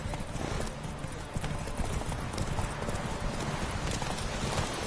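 Roach the horse gallops in The Witcher 3, rapid steady clip-clop hoofbeats under a dense wash of game ambience, with an occasional faint snort and no clear talk.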